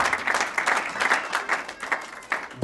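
A church congregation at a Sunday service claps and cheers in praise of the word of God, a dense burst of applause lasting a few seconds and ending abruptly.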